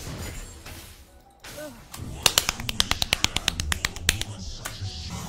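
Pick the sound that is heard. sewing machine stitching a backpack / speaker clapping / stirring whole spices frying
speaker clapping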